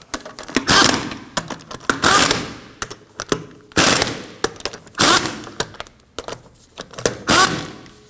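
Wheel lug nuts on a 2003-2006 Subaru Baja being run down with a power tool, loud close bursts of rapid rattling impacts repeating about six times with short pauses between.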